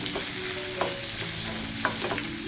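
Onions frying in a pan for homemade tomato chutney, a steady close sizzle broken by a few sharp scrapes of a stirring spoon against the pan.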